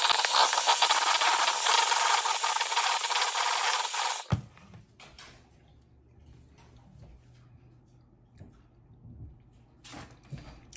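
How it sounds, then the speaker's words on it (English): An electric mixer beating cream cheese and softened butter for cookie frosting, a loud steady whirring drone for about four seconds that cuts off abruptly, leaving quiet clinks and faint kitchen sounds afterward. "we're gonna beat that up and mix it all together"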